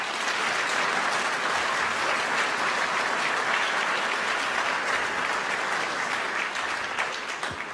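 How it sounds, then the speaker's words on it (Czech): An audience applauds a Slovak folk music band at the Strážnice international folklore festival. Loud, sustained clapping fills the entire stretch, evenly dense, and tapers slightly at the very end with no voices over it. "že zaslouží i potlesk."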